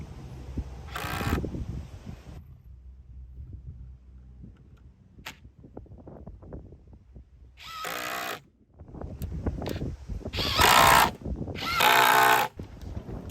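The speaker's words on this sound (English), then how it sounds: "we'll set them in, pre-drill, and screw them down." Several short bursts of a power drill whirring up close, pre-drilling and driving screws to fasten wooden cleats for a kiosk display case, separated by knocking and handling noises.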